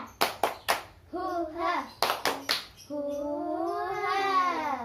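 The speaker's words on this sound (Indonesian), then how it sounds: "Sekali lagi tepuk semangat." Third-grade children in a classroom perform a rhythmic clapping cheer: three quick sharp claps followed by a loud shout, repeated, then a long drawn-out group cry.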